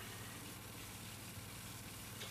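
A low, steady motorcycle engine idles at a distance, a faint continuous rumble with no talking.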